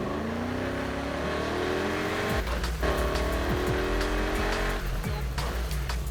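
Race cars in the Need for Speed Heat video game roar and rev with engine tones climbing and shifting, tires squealing briefly, loud and continuous throughout with no talking.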